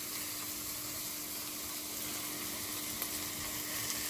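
A spoonful of ginger-garlic paste fries with onions in a hot pan for tomato sambar, giving an even, continuous sizzle with a faint clink near the end and no talking.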